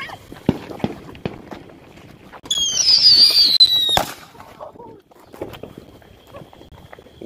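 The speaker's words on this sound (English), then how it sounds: "What kind of fireworks are those? Those are weak." Fireworks set off outdoors at a July 4th celebration: a whistling, crackling burst that climbs and fades over a couple of seconds, followed by a sharp bang, with scattered pops and people talking around it.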